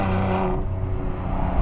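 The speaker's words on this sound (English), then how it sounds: "lovely V6 sound" Mercedes-AMG C43 4Matic Coupé V6 with Performance exhaust, a loud, steady low engine drone close by, slightly brighter at first and then settling into a deep rumble throughout.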